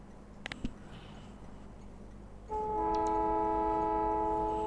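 A train in the Factorio video game rolls past with a steady rumble, then a loud sustained multi-tone horn blares close up over continuous noise.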